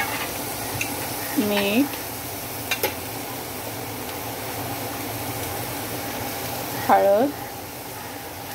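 Cowpeas sauté in a pan with chili powder, salt and turmeric, giving a constant low sizzle while someone speaks over it twice.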